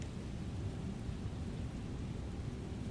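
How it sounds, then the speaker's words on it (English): Inside a flight simulator cockpit there is a steady, dense wash of splashing water like a fountain, continuous and fairly faint, with a low rumble under it and no voices. "Sounds like there's a fountain in here."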